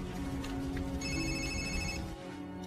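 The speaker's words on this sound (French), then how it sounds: "C'est un bruit de téléphone?" A telephone rings with a bright trilling bell in bursts over a low background hum, heard close and fairly loud, with no talk.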